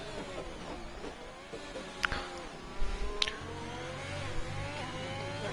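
Ferrari race car in a racing game on the Belgian circuit, engine droning at steady revs with layered harmonic whine into turn one, a couple of sharp clicks and a brief louder burst partway through.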